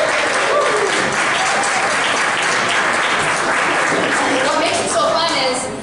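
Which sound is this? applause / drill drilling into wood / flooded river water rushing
applause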